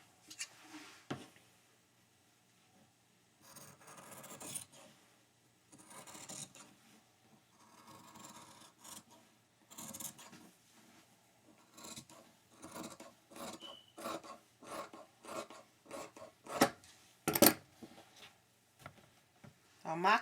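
Paper skirt block pattern being cut out with scissors: repeated short snipping and rasping strokes, quiet and close, coming in irregular bursts that quicken toward the end, with a faint voice now and then.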